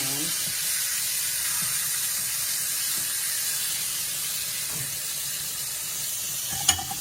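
Pork chops browning in a pan of grease on medium heat, a steady, close hiss and sizzle with faint low thumps and one sharp click near the end, no voices.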